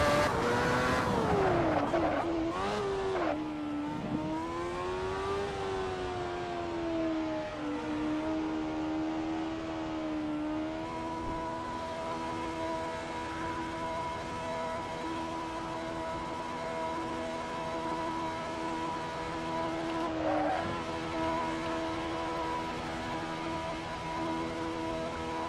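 Race car at Silverstone in the racing game Assetto Corsa, the engine note falling under braking, then a steady high-revving whine that holds for a long stretch, with a faint tyre squeal early on.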